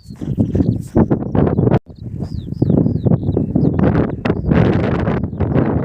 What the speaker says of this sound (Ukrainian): шумить вітер.